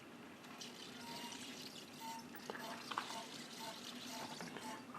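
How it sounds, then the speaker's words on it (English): A soft, steady patter of hot water sprinkling down over a grain bed during a fly sparge for brewing red ale, like a gentle shower over a wet surface, continuous and fairly quiet with faint background noise. "it's just going to rain hot water over top of the grain bed."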